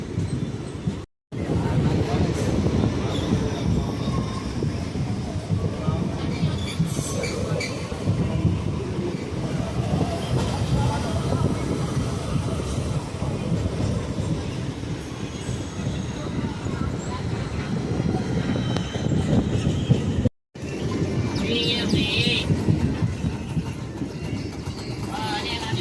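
A passenger train rolls along the rails in a steady rhythmic clatter of wheels on track joints, loud and continuous, with people talking over it.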